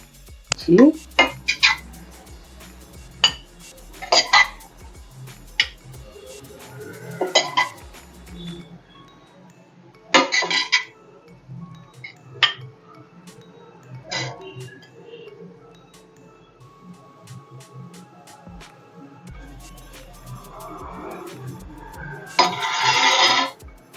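Plates and a serving spoon clink and knock sharply in scattered bursts while homemade paneer fried rice is served onto a plate in a home kitchen.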